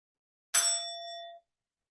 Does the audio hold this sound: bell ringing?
yes